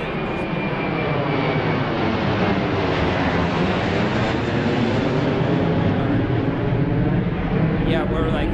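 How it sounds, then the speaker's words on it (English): A fixed-wing airplane takes off from an airport right beside a busy marketplace in San Diego, its engine roar loud and continuous, filling the whole stretch with a broad, steady rumble. "here comes a plane,"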